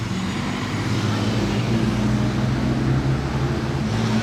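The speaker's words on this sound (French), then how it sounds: "Là par contre j'entends une Porsche" A Porsche driving through Monaco streets in November, its engine a steady, fairly loud low rumble that holds throughout amid surrounding traffic noise, with no talk.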